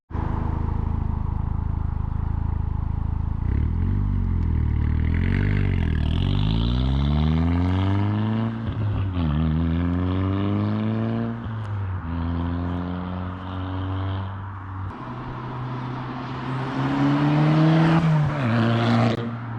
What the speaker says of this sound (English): I'm gonna go ahead and roll the clips of the car rolling